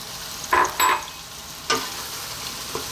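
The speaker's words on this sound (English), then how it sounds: "Now we're going to add in our cooked pasta, your pasta of choice." Cooked pasta tumbles into a pan of creamy ham and pea sauce, bringing a few short bursts of sizzling and stirring over a quiet background.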